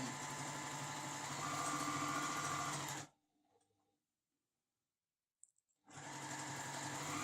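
Semi-industrial straight-stitch sewing machine running steadily with a fast, even mechanical whir, stopping for about three seconds of near silence, then starting up again.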